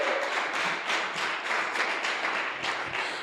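Church congregation clapping together, a dense rapid patter of many hands in a hall, steady and fairly soft, with no voices over it.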